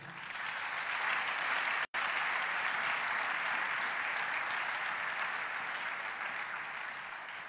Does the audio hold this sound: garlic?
no